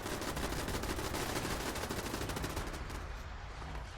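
Dense gunfire in the Fallout 76 video game as several camps shoot at the Scorched Beast Queen, a continuous loud rattle of rapid shots that fades slightly toward the end.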